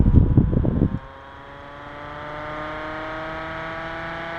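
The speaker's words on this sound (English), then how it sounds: "It's a very slow startup fan, very slow shutdown fan, but it's a very powerful fan." A vintage circulator fan with metal blades behind a grill starts up with a loud, rough whirring rush that settles into a steady, humming drone with rising whine tones as the blades come up to speed.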